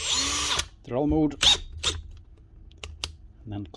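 A repaired Makita power drill whirs loudly in drill mode at the start, then someone speaks, with a few short clicks and brief bursts of the tool afterward.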